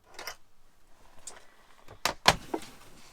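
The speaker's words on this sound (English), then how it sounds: "So this is our pull-out pantry." A pull-out pantry drawer with a locking mechanism in a converted camper van is opened: soft sliding rumble, then a couple of sharp clicks and clunks from the latch, close and fairly quiet, with no talking.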